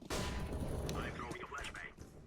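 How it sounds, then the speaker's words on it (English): A flashbang grenade bursts in a video game with a sudden sharp bang, then a brief rumbling tail and a chirpy ringing, while voices talk over it. "Flashbang."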